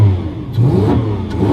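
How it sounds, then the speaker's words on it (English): A Lamborghini Aventador SV engine revs hard close by, with a loud, rough blip swelling and dropping back twice in quick succession and no voices over it. "it'd be rude, I think, not to give this a couple of revs."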